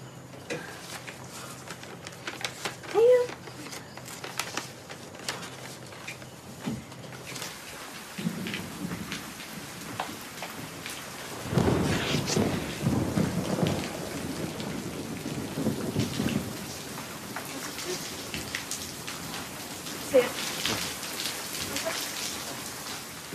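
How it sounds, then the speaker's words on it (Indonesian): Heavy rain pours steadily while thunder rumbles, with a loud rolling crash building midway and fainter rumbles before and after. "Hujan tambah gede tuh."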